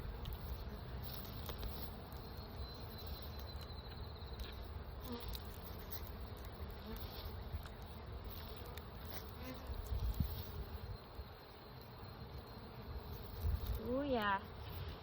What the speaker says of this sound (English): lots of bees in the top